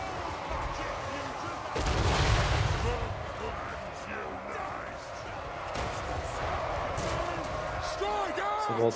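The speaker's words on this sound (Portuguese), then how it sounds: "Dá um tiro naqueles cavaleiros lá atrás" Artillery fire and explosions during a battle in Total War: Warhammer 3, with cannon blasts and thumps over continuous battle noise, while someone talks throughout.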